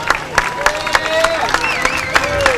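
A crowd at a July 4th parade in Morgan Hill applauds the city mayor, with steady rhythmic clapping, whistles and cheers, and chatter mixed in.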